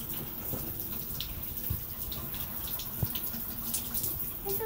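Shower water runs in a steady, hissing spray throughout, broken by a few faint knocks and splashes.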